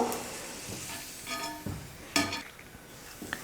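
Puri dough fries in hot oil in a kadai, making a close, bubbling sizzle broken by sharp spoon-pressing bursts and a few metal clinks, with no speech.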